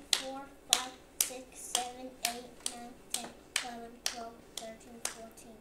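A child claps a steady series of about twelve hand claps, evenly spaced and fairly quiet, with a hollow room echo and a voice counting along.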